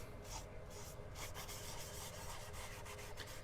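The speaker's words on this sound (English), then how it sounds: "So all I'm doing is just rubbing the Howards in." Howard's wood finish is rubbed into a driftwood burl by hand, producing a faint, continuous rubbing and scuffing close by with no speech.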